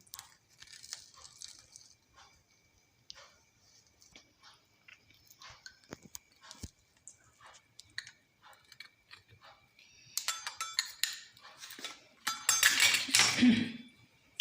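Homemade pizza is cut with crunchy crackles and scattered taps of a blade through the crust, then a dense, louder burst of crunching and scraping near the end, with no voices.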